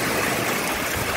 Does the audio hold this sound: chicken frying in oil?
no